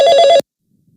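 A telephone rings with a bright electronic trill of rapid pulses lasting under half a second, loud and close, then cuts off abruptly into silence.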